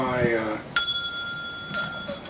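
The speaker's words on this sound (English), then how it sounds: "This one is my grandmother's bell when she's teaching school." An old handheld school bell rings twice, each stroke a bright sharp clang that hangs briefly before fading, after a short spoken phrase at the start.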